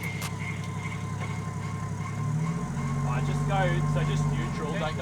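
A 4x4's engine held in neutral climbs from a lumpy idle into a sustained higher rev, a steady droning growl close by, while people talk over it.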